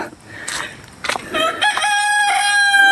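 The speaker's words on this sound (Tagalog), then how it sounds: "Uy, may manok dito." A rooster crows loudly nearby on Mount Makiling, one long drawn-out call following a few short clucks and rustles.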